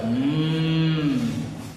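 A person's voice imitates a cow's moo with one long, loud, drawn-out call close to the microphone.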